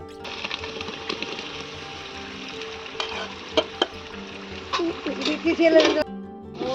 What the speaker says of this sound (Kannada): ಬರೀ ಪುದೀನ ಮತ್ತು ಕೊತ್ತಂಬರಿ ಸೊಪ್ಪು ಹಾಕಿ ಸ್ವಲ್ಪ ಫ್ರೈ ಮಾಡ್ಕೋಬೇಕು